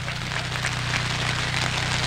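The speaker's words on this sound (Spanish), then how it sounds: "Se nos vino la lluvia" Rain patters steadily on a campsite in the Arizona mountains, a dense, even hiss with a low hum running underneath.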